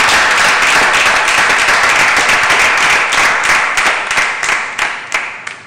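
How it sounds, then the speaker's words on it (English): Flatmates in a reality-show house give a round of applause, loud close clapping that stays dense and fills the room, then thins into separate claps near the end. "Yes, a round of applause for Monroe Chicken"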